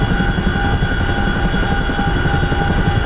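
Loud, steady rotor and turbine drone of a CH-47F Chinook twin-rotor heavy-lift helicopter in the flight simulator DCS World, a constant near roar holding for the whole stretch with no voices.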